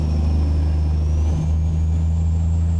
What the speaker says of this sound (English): like that just sound like a slipping clutch